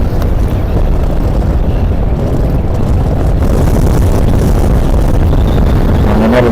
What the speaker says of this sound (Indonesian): Anginnya lumayan kenceng nih